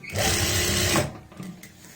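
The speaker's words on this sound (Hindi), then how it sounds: "अब हम यहाँ पे दोबारा से सिलाई लगाएंगे" A sewing machine stitches the lining of a kameez in a steady, loud, continuous whir for about a second before stopping, leaving quieter handling noise behind.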